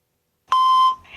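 A single steady electronic beep from a phone line sounds for about half a second, loud and clear, just ahead of a recorded voice-mail prompt, followed by a faint hiss.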